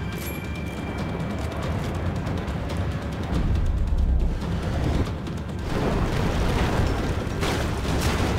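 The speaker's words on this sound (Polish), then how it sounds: "zanim to coś znowu wybuchnie" Explosion in the video game Max Payne 3: a dense, sustained roar of blast and rumbling debris that swells and stays loud throughout, with no talk over it.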